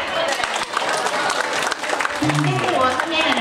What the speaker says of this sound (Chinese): 我们也是要给大家鼓励的掌声来